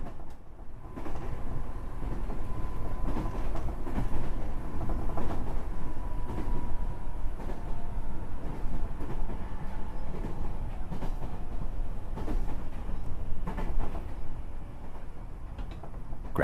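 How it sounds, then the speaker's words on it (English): Steady rumbling rattle of a night train rolling along the rails in Japan, with rhythmic clicks and clacks from the wheels throughout, constant and fairly close. "And the train carries you silently through all of it."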